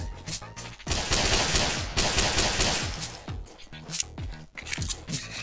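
Rapid bursts of gunfire in a first-person shooter version of Friday Night Funkin rattle loudly and close, with short pauses between volleys and a voice briefly audible.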